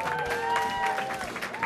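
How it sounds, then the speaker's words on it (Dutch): A studio audience applauds a volunteer named Jana on a Dutch television show, with steady moderate clapping throughout, a faint sustained tone and some crowd noise in the background. "mag ik een applaus voor Jana?"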